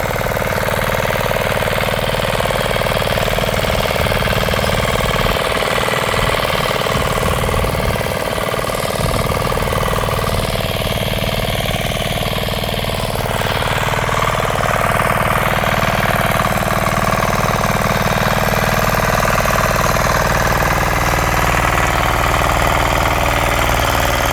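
A tractor's heavy diesel engine drones steadily and loudly while ploughing a field, with a low rumbling throb and occasional dips in the lower rumble.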